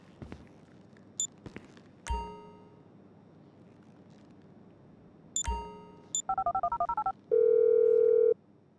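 In-game phone dialing in GTA 5: a few sharp clicks and chimes, then a rapid string of touch-tone beeps followed by a steady ringing tone, close and clear with no talk.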